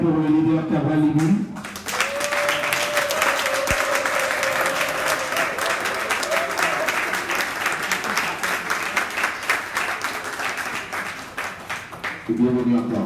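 An audience at a citizens' convention in Geneva breaks into sustained, dense applause for a leader, loud and steady for about ten seconds, with a voice speaking briefly before it starts and again as it fades.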